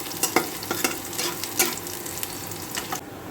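Chopped onions lightly frying in a pan, a continuous close sizzle broken by several sharp clicks and scrapes of a spatula stirring, with the frying dying down near the end.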